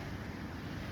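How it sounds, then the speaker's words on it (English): Strong ocean current and surf roar as a loud, dense, unbroken wash of water and wind noise, with no voices over it. "you got the strong ocean current like right here, which is extremely loud."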